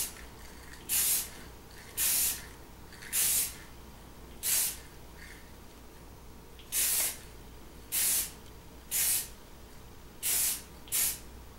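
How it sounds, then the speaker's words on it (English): A spray can applies primer to a Corgi Porsche Carrera 6 model car in short hissing bursts, about nine close sharp sprays separated by brief pauses over a faint background hum. "who's that ugly guy spraying that primer on my car?"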